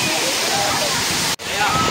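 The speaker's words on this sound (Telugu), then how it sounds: "వాటర్ ఇక్కడ నుంచి చూడండి ఎలా పోతుంది వాటర్ అయితే, చాలా బాగుంది అక్కడికి." Water rushes at the Penchalakona waterfall in a continuous, loud roar, close by and unbroken except for a momentary dropout, with a person talking over it.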